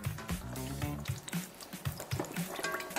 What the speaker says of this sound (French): Une huile bien chaude, 180 degrés.